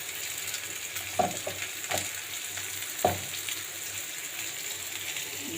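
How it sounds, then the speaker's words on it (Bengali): Potatoes and mango fry in oil with black cumin, a steady close sizzle broken by occasional clinks and scrapes of stirring. "দেখো আম তেলের মধ্যে কালো জিরে দিয়ে আলু আর আম দিয়ে ভাজা ভাজা করছি।"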